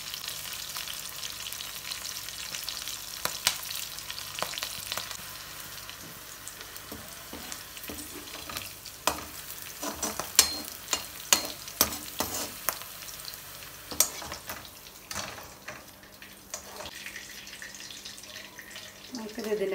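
Green chillies and curry leaves frying in hot oil as a garnish for homemade chicken 65, a steady sizzle with bursts of sharp crackling and spattering, close by, with a voice speaking at times.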